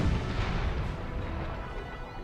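Cannons firing canister in the Napoleonic-era strategy game Imperial Splendour, a dense, rumbling roar of artillery fire rolling continuously and loudly without pause.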